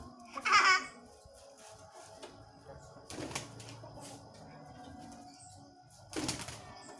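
A pigeon beats its wings in short bursts during flight training, with three separate flurries spaced a few seconds apart, close and moderately loud over quiet background.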